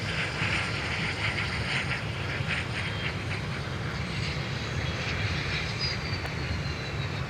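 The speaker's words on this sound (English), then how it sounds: "getting to fly a A330 domestic up here from Atlanta" An Airbus A330 jet airliner at MSP airport gives off a steady, continuous jet engine roar with broad rumble, held at a constant level throughout with no talk.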